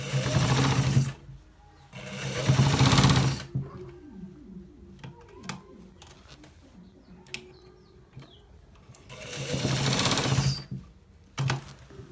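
A sewing machine stitching a designer shirt, running in loud bursts of rapid mechanical whirring separated by quieter pauses with small clicks and handling sounds, close by with no talking.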